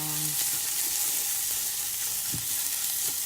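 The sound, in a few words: frying ginger, curry leaves and turmeric, stirred in pan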